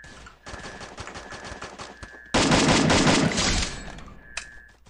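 Gunfire in the Free Fire video game played on an emulator: bursts of rapid shots, quieter at first, then a loud dense volley in the middle that tapers off, with no talk.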